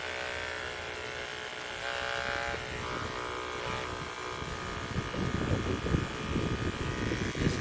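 Electric clippers trimming a buck goat's tail, a steady close motorized buzz with a shifting tone, running continuously while the blades bite through hair, with some outdoor wind noise.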